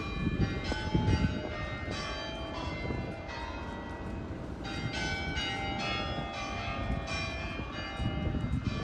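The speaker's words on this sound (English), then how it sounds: "I think it was church bells, but I just think it's just a regular clock." Clock tower bells in Tenerife, Canary Islands, chiming at one in the afternoon, a series of ringing strikes with long overlapping tones over steady outdoor ambience.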